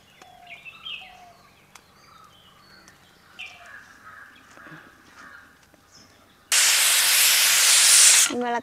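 A pressure cooker cooking potatoes bursts into a loud, sustained steam whistle for about two seconds near the end, following a quiet stretch with faint birdsong in the background.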